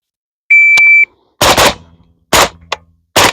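Suppressed PSA AK-47 GF5 rifle fired at a shooting range, giving three loud, close, sharp shots about a second apart, preceded by a short electronic beep.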